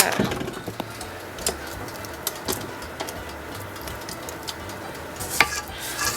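Chocolate butter cake batter being beaten in a bowl with an electric mixer: a continuous low whir with occasional clicks and knocks against the bowl, steady and fairly close over six seconds.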